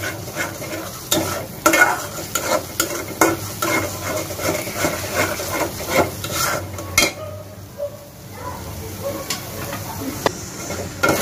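Tender data shak greens cooked with ground peanut paste are stir-fried in a pan, with a busy clatter of the spatula scraping and knocking against metal over a soft, steady sizzle.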